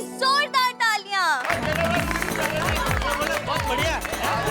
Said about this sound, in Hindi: रोशन जी की परफॉर्मेंस के लिए जोरदार तालियां।